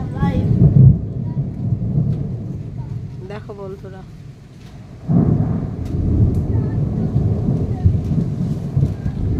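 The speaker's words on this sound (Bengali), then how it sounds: "কাল বৈশাখী ঝড়" Rolling thunder booms twice during a Kalbaishakhi thunderstorm, a loud rumble at the start and another swelling midway, with rain hissing underneath and someone speaking briefly between the rolls.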